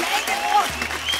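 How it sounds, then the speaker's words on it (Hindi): An audience on a televised dance competition stage bursts into a dense, steady patter of applause, loud and sustained through the whole short moment, with crowd noise underneath. "एक बार जोरदार ताली"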